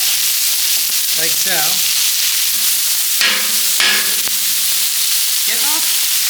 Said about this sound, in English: So we're gonna add our meat in. This is all our steak.